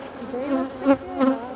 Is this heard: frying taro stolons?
no